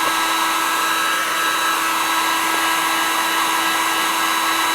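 Steady broadband roar of a heat gun warming a Mk1 Volkswagen Golf front body panel during metalwork repair, continuous and close with a faint tonal whine, no talking.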